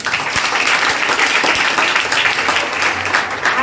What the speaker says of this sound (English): Give a big clap to your teachers.